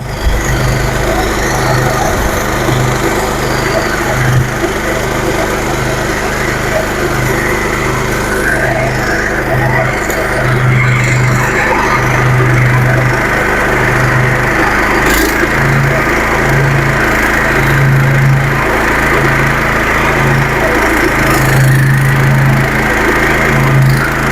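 A stubble mower runs at full working speed in an Indian field: a loud, steady mechanical drone with a faint pulsing beat, continuous for the whole stretch and heard alone.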